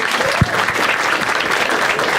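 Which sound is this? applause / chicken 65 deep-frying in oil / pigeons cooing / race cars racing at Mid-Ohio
applause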